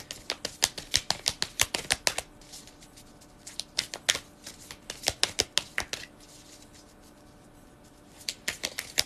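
A deck of tarot cards being shuffled up close, in quick bursts of crisp riffling clicks separated by short pauses, with no voice over it.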